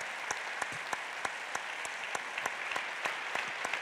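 Audience applause for film editor Robert Ciodyk at a screening event, a steady patter of clapping from a seated crowd with scattered sharper claps standing out, moderately distant and without talk.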